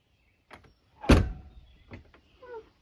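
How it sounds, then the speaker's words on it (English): Gullwing door on a DIY composite trailer swings open: a soft click, then a loud thump and rumbling slide near the mic, followed by a couple of lighter knocks and a brief creaking squeal. "Now you open the door and it doesn't start moving until"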